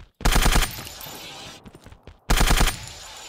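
Machine gun fire in the video game Zero Sievert: two loud, rapid bursts of automatic shots, the first about half a second long and the second after a short gap, with faint clicks between them.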